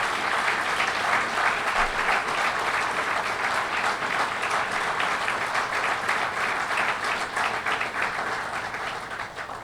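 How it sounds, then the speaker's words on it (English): Audience applause at a laborers' union meeting attended by the governor: a loud, sustained crowd of clapping hands lasting nearly ten seconds, steady throughout and tapering slightly at the end. "So let's give him a round of applause and labor a round of applause."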